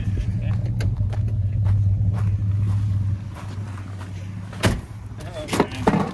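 A 1968 Ford Galaxie 500, smoking badly after sitting for years, idles with a steady low engine rumble that then drops away, followed by clunks and movement sounds, with people talking nearby.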